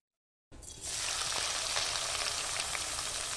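Sliced onion for chicken biryani drops into hot oil after a moment of silence, then a steady, close hiss of frying and sizzling with faint crackles continues alone.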